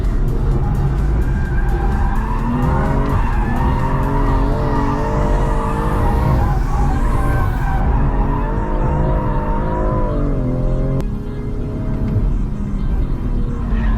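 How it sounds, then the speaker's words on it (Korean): Genesis G70 3.3T or BMW M340i drifting on a race circuit, a loud sustained engine roar with rising and falling revs and long screeching tire skids throughout, continuous and close. "모든 걸 포기한 드리프트가 시작되죠"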